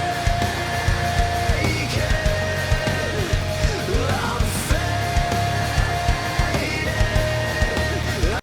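A nu-metal and metalcore track with an old-school 2000s feel plays loudly and continuously, with dense distorted guitars, pounding drums and a voice in the mix.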